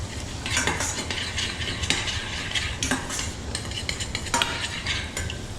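Finely chopped shallots with a sprig of thyme and bay leaf sweat gently in a pan over controlled heat, a soft steady sizzle under repeated scraping and clinking stirs of a utensil.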